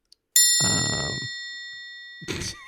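A soundboard ding effect rings out clearly: a sharp bell-like strike with a long ringing decay, followed by a shorter second chime near the end, in an otherwise quiet setting.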